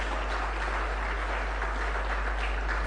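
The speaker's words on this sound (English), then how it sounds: "let's give ourselves a round of applause for the patience" An audience at a Ghanaian national economic event applauding together, a dense, steady wash of clapping that holds evenly from start to finish.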